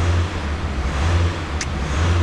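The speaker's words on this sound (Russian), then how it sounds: "Это первая газулька на ней." A Volkswagen Multivan engine, just back from a full overhaul, runs with a loud, steady low rumble close to the microphone, held gas with little change in pitch and a brief hiss near the end.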